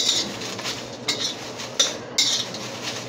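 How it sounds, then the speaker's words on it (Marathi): Black masala spices roasting in a little oil as a spoon stirs the pan, with four or five distinct metallic scrapes and clinks over a faint sizzle, close up. "थोडंसं तेल टाकायचं आहे भाजण्यासाठी. करपू नये असं हलवीत राहायचं."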